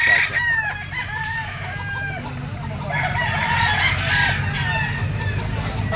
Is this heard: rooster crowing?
yes